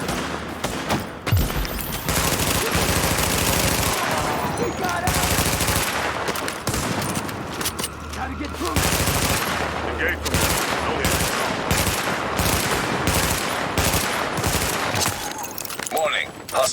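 Video game gunfire from Tom Clancy's The Division, with rapid bursts of automatic fire and repeated shots ringing out loud and close in a street battle, nearly continuous with brief pauses between volleys.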